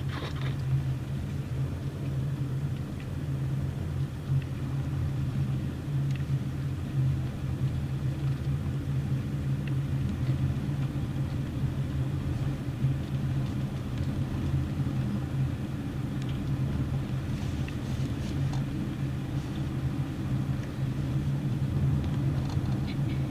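A car drives along a winter road through a forest in South Dakota's Black Hills, its steady low engine and tyre rumble filling the whole stretch with no voices.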